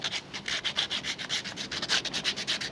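A wooden chair support block has its edge sanded by hand, giving rapid rhythmic back-and-forth rubbing strokes, close and fairly quiet, with no talking.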